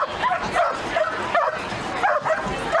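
Dog yips and barks in bursts at a dog sports competition with dock jumping and agility, several sharp calls over steady crowd and arena noise.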